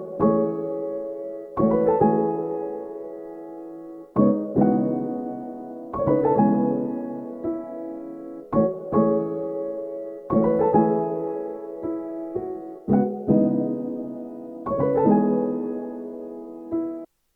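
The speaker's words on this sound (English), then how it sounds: "I also sent this piano to another different convolver" Piano chords run through a convolver reverb for an ambient sample, struck in a slow irregular series with each chord ringing into long washed-out tails, alone and clear with no voices.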